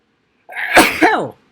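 One close, loud sneeze of about a second, rising to a sharp burst and then trailing off, with no talk around it.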